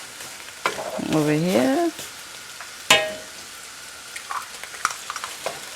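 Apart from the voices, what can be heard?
stir-frying bitter melon with eggs in a pan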